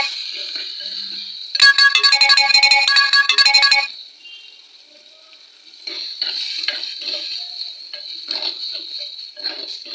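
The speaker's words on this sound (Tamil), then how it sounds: "தேங்காயை அரைச்சி வச்சுருக்க தேங்காய் விழுது போடணும். போட்டு நல்லா கிளறணும்." Coconut paste frying in a pan for fish curry sizzles steadily while being stirred, with a loud stretch of rapid scraping and clattering, a quieter lull, then scattered stirring scrapes over the continuous hiss; no talk.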